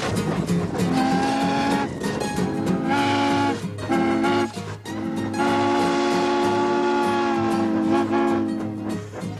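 An old steam locomotive with its tender moves along, giving off a loud, sustained whistle-like tone that holds for several seconds, breaks briefly, and resumes over a rumbling running noise.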